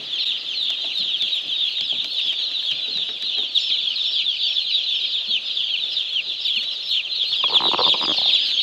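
Baby chicks inside a warm poultry farm house make a dense, continuous chorus of high-pitched peeping. A brief rustle or flapping comes near the end.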